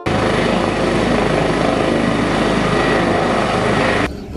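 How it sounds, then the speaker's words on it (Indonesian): A red toy helicopter's motor whirs steadily and loudly at close range, a constant buzzing drone that cuts off abruptly near the end. "Ini adalah mainan helikopter warna merah teman-teman, atau helikopter red color."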